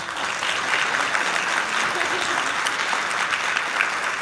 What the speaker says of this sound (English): I want to get a huge round of applause for our panelists today